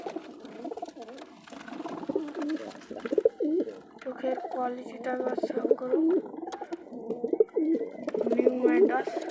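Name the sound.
green male Madras pigeon cooing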